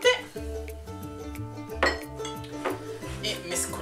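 Spoon clinking against a bowl while milk, egg and sugar are stirred together for Apulian Easter scarcelle cookies, a close run of bright metallic taps and scrapes over a quiet kitchen background.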